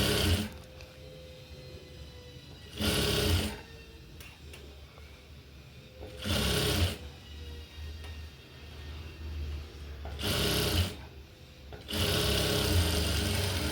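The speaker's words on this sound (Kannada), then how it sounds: "ಪೈಪಿಂಗಿಂದ ಇನ್ನು ಹಿಂದಕ್ಕೇ ಸ್ಟಿಚ್ ಮಾಡ್ತಾಯಿದ್ದೀನಿ." A sewing machine stitches sleeves onto a ready-made dress, running in four short whirring bursts separated by pauses with quieter background, close and clear, without speech.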